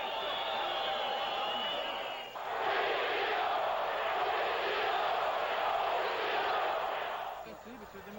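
A large stadium crowd at a 1999 Brazilian football match jeers loudly at Palmeiras, a dense sustained wash of booing and whistling that swells after a quieter stretch and holds steady before fading.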